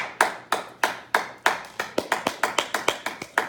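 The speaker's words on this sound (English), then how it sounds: "Should we clap?" A class of students clapping, starting as slow, sharp individual claps and quickening into a faster, tighter rhythm over a few seconds, close and clear with no talking.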